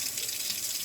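Water runs from a tap in a home kitchen, a steady, even rush with no talk over it.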